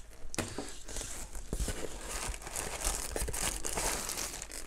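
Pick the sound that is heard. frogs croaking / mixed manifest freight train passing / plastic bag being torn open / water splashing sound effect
plastic bag being torn open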